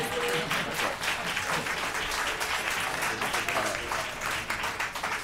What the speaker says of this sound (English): clapping is allowable